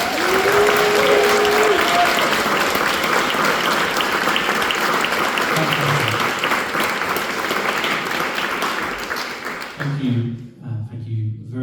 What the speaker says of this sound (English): Can you give a big round of applause to our fantastic first performer,